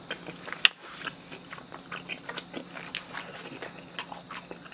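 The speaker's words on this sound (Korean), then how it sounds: "편육 먹어볼게요." Sliced boiled pork (pyeonyuk) is chewed close to the mic, with soft wet bites and crunchy chewing clicks in an irregular rhythm and no talking.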